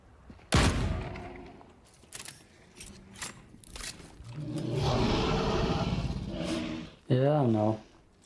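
Gunfire in The Cycle: Frontier: a sharp loud shot opens, followed by scattered thuds and a sustained rumbling burst of fire, with talk mixed in around the shots.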